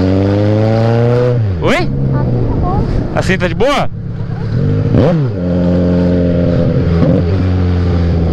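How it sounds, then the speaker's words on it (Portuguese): A loud Kawasaki Z1000 motorcycle engine idles and revs sharply several times, with rising and falling pitch sweeps over a steady rumble, while people talk nearby. "Que faz muito barulho essa moto."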